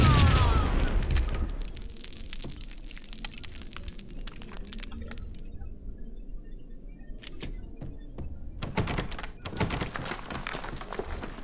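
In the video game Max Payne, a heavy explosion breaking a wall opens with a loud blast, followed by scattered clattering debris and thuds against a quieter background rumble.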